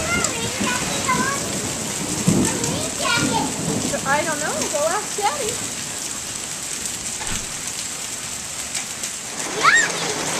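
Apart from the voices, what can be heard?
rain falling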